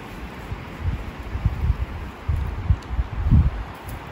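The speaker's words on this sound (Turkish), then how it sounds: "Vallahi çok rüzgar var." Strong gusts sweep a highland garden outdoors, rustling leaves and buffeting the microphone in uneven surges of low roaring noise.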